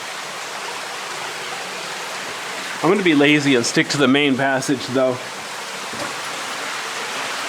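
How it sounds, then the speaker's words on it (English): Water flows through Deadhorse Cave, a steady hissing rush of a stream heard close by, briefly overlaid by someone talking. "But you'll notice there's still water. You should be able to see it and hear it."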